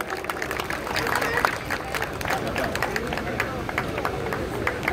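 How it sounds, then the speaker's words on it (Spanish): An audience gives young marinera dancers at a company event a loud, sustained round of applause, dense and continuous with some crowd babble underneath. "Fuerte el aplauso para todos los chicos."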